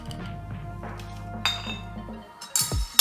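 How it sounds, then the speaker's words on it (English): A spoon stirs sangria in a glass holding wine with pieces of lemon, lime and orange, giving a run of light glassy clinks and taps that ends in a few sharper knocks near the close. "gonna stir a little bit of your glass and make sure you get all the ingredients"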